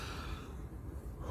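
A person yawning late at night, a single long, breathy, airy exhalation close up, with no words spoken.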